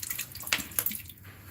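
Water drains from a toilet supply line during a leak repair, a faint trickling and splashing with a few brief louder spurts, heard alone without talk.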